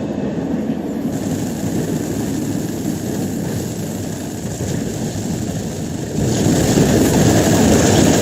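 Train in the StarCraft 2 co-op game, a loud steady rumbling roar of a moving train with a constant whine, growing louder and heavier toward the end, no speech.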